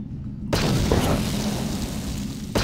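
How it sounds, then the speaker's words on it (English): An explosion from explosives in the Knights of the Old Republic video game, a sudden deep boom with a broad rumbling tail that holds for about two seconds before a second burst begins. "I think, you know, an explosion."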